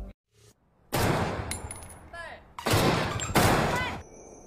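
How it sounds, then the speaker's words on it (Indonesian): Gunfire from students at shooting practice: several loud bursts of rapid shots, close by, separated by short pauses, with some speech mixed in. "Di sana semua siswa mulai berlatih menembak dengan tepat."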